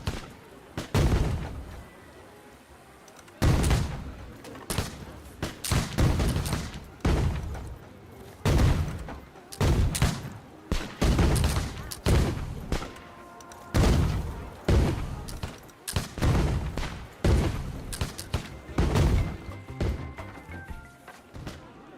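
Cannon-like booms from a pirate ride in the theme park game Planet Coaster 2, heavy thuds repeating every second or two over the whole stretch, loud and fairly close, with park ambience in between.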